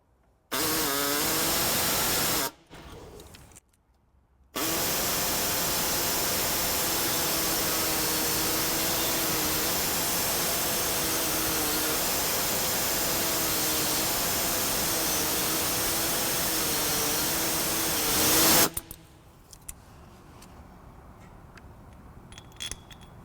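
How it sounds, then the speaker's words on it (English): An air saw cuts a notch into a pre-existing hole in the frame of a 2013-2017 Subaru Crosstrek, running loud and steady for about fourteen seconds after a couple of short bursts, then cutting off. "Today I'm going to be using an air saw."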